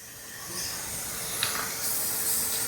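A steady, continuous hiss of aerosol spray, fairly close, running unbroken with a couple of brief louder bursts and no talking.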